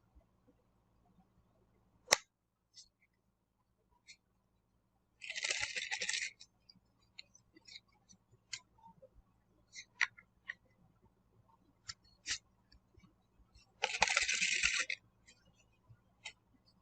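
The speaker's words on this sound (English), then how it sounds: "shuffling cards, that's one card short." Playing cards being shuffled in a quiet room, two short riffling bursts a few seconds apart, with faint scattered ticks and taps between them.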